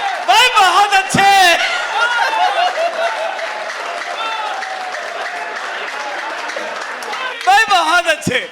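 Audience at a satirical Hindi poetry recital bursts into loud clapping and laughter, the applause swelling then tapering into a long steady patter before a second burst near the end.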